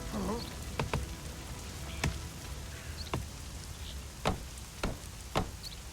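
Steady rain patters softly in the strategy game Northgard, punctuated by a few sharp ticks and knocks at irregular intervals.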